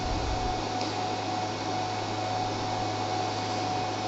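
A cooling blower fan runs inside a DATOUBOSS ZGR-03 48V to 220V 2200W inverter during a thermal protection test, giving a constant, even electric whir with a faint steady hum, close up and alone.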